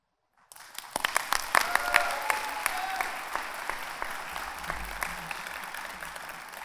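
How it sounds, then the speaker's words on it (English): A crowd at a college commencement ceremony breaks into steady applause that swells quickly and holds, many hands clapping together in a large room with a few brief voices underneath. "Let's give him an applause."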